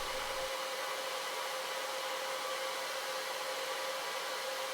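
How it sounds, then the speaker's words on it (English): A hair dryer blows steadily over freshly poured epoxy resin with a continuous airy hiss, close and fairly loud, unbroken for the whole stretch. "I used a hairdryer to level the resin and pop the bubbles"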